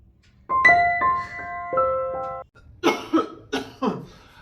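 Several harsh coughs in a quick series follow a few seconds of sustained tonal sound, close and fairly loud.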